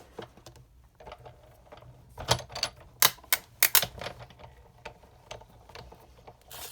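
Card stock is cranked through a manual die-cutting machine for a handmade card, giving a close run of clicky ratcheting and clacking mechanical sounds with a few sharper snaps in the middle.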